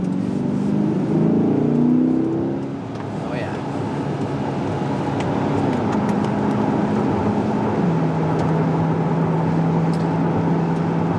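A C8 Corvette pulls away on a rainy winter day, its engine note climbing in low harmonic steps before settling into a steady cruising drone, with road and rain noise throughout.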